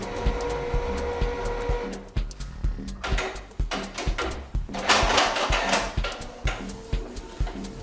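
An inkjet printer starting up to print in black, giving mechanical whirring, clicks and carriage movement that grows busier and louder, close and steady with no talking.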